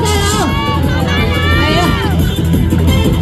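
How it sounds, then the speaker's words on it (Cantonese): A crowd cheers on climbers at the Cheung Chau Bun Scrambling final, a loud, dense swell of voices and shouts with a commentator talking over it. "大家繼續俾啲掌聲同歡呼聲"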